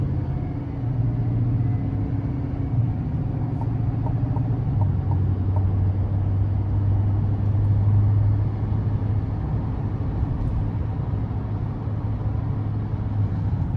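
Cabin drone of a 2024 GMC Sierra 2500HD Denali with the upgraded 6.6-liter Duramax diesel and 10-speed transmission, a steady low engine and road rumble heard from inside while cruising, with no talk over it.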